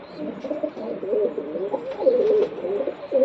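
Racing pigeons cooing in a loft, a soft, continuous run of low throaty coos close by, with a few faint clicks.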